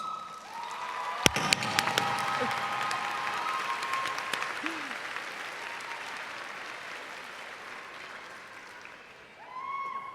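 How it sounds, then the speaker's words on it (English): A graduation crowd at a university arts and sciences ceremony breaks into sustained applause, a broad wash of clapping that fades slowly over ten seconds, with a brief cheer and faint voices underneath. "Give yourselves and your family a round of applause."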